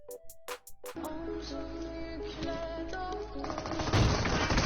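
Gunfire in the mobile battle-royale game PUBG Mobile: a few sharp separate shots, then a dense, loud stretch of rapid automatic fire and noisy game action that grows harsher toward the end.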